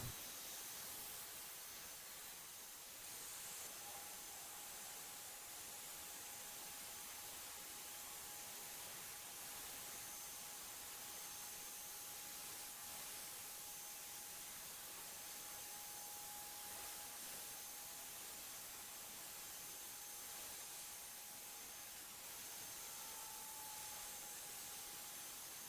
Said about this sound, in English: Spraying on the top color is always so much fun.